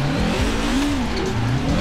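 A Honda Civic Type R in Forza Horizon 4, heard from the cockpit, its engine droning loud and close with pitch rising and falling as it revs, plus a hint of tire squeal and no talk.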